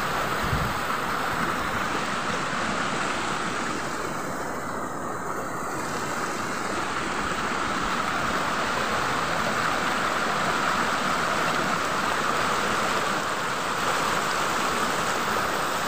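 A creek at Henry's Scenic Reserve in Patumahoe, Auckland, gives a steady broadband rush of flowing water with some wind noise. It holds constant throughout with no voices.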